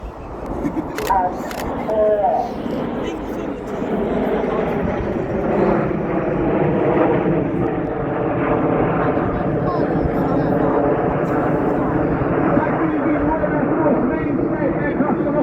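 An RAF Typhoon jet roars through its display at Cosford airshow, a loud, sustained engine rumble lasting the whole stretch while a commentator talks over it on the public address.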